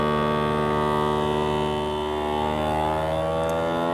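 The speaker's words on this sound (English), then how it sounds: "It will now connect and it will now vacuum seal our sausages." A vacuum sealer machine draws the air out of a bag of sausages, giving a steady, loud motor hum with a rich buzzing tone that dips slightly in pitch midway and then holds, with no talking.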